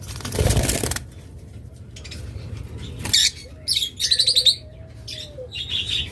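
Pet lovebirds, budgerigars, Java birds and cockatiels chirp in short, scattered bursts of tweets nearby, after a brief rustling burst at the start, with quieter gaps between calls.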